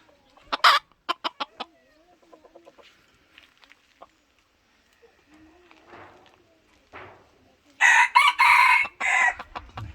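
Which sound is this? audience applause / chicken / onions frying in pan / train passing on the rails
chicken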